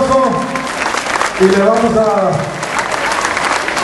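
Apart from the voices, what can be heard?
crowd applauding the municipal president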